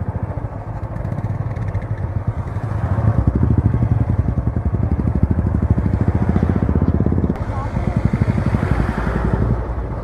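A motorcycle ridden along a hill-station road in the dark, its engine droning steadily and loudly throughout with a rough, clattering pulse and wind rush.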